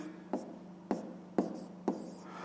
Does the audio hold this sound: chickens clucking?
no